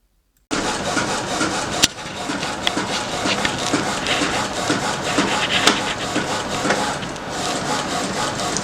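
A sublimation printer runs a T-shirt design, a steady mechanical whir with rhythmic carriage passes and faint clicks starting abruptly after a brief silence, with one sharp knock early on.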